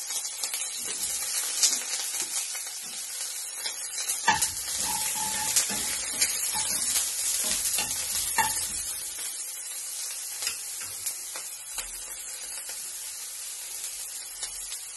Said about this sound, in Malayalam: ഒരു സവാള അരിഞ്ഞത് ഇട്ട് കൊടുക്കാം.